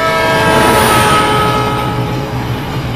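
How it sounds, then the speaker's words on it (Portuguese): A loud train whistle blares continuously with the rumble of a moving train beneath it, close and steady throughout. "Percebemos o efeito Doppler quando ouvimos o apito de um trem em movimento."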